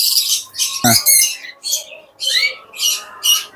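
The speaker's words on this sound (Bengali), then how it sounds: "এখানে দেখতে পাচ্ছেন কিছু লাভবার্ড আছে" Pet lovebirds in a bird shop give a rapid series of about seven shrill, close chirps in short bursts, with one harsher squawk among them and no talking.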